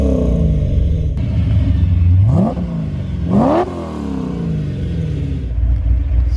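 A V8-swapped Porsche 944 Turbo rumbles at idle, then revs hard twice in quick succession, each rise sweeping up sharply before dropping back to a deep idle burble, loud and close with no talking.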